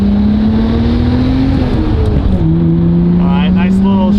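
A Nissan Skyline GT-R with its exhaust valves open accelerates hard, the engine note climbing steadily and then dropping at a gear change before climbing again, loud and close, with someone talking near the end.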